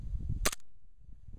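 A KWA M226 airsoft pistol fires once outdoors in the cold, a single sharp close pop with a brief metallic snap, then quiet.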